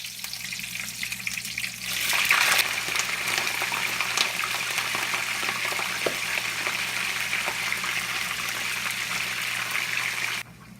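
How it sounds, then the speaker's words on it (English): Plantain slices dropped into heated oil, a sudden rush of bubbling sizzle that holds steady and close for several seconds before cutting off, with nobody speaking. "I'm going to go ahead and put my plantain in the oil for"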